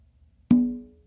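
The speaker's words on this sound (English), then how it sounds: "I'm gonna do an open with my non-dominant hand to the tumba on my non-dominant side" One open tone played with the non-dominant hand on a tumba drum, a loud, round hit whose clear pitched ring sustains and fades slowly, alone in a quiet room.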